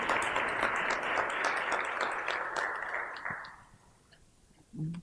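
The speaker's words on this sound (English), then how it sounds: "Quickly, let's give them a round of applause" Audience applause at a TEDx talk, a broad wash of clapping from a room full of people that fades over about three seconds and dies away, with a brief voice near the end.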